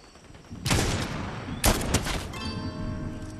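Rapid bursts of gunfire crackle in Fortnite, a dense volley kicking in after a brief quiet, with a sharp louder crack midway and continued rattling shots trailing off.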